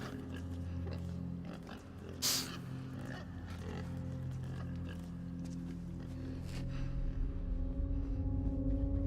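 A pig oinking and grunting close by in a barn or pen, the low snorts continuing under steady background noise, with a brief sharp clatter early on.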